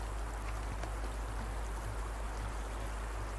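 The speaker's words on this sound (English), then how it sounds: "Rain sounds. Almost." Steady rain in the video game Life is Strange 2, a soft, even hiss of falling drops with a low rumble beneath, constant and faint throughout with no voices.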